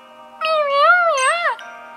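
A wavering, tonal cat-like cry from a Pokémon in the Pokémon X & Y video game, rising and falling in pitch over about a second, clear and alone over a faint steady background tone.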